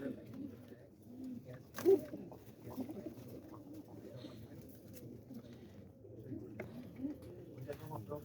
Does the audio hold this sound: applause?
no